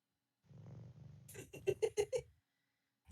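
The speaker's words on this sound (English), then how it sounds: "there is purring still" A cat purrs in low rumbling pulses, then a few louder, rhythmic breathy bursts follow before it fades to quiet.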